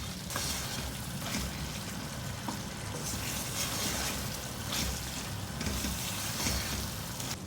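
Mutton mince fries in a karahi with a steady, close sizzle, a continuous crackle of hot oil broken by occasional stirring scrapes, and no voices.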